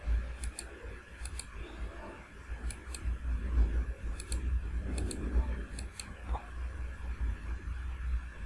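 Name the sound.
computer mouse clicking in Cabri 3D software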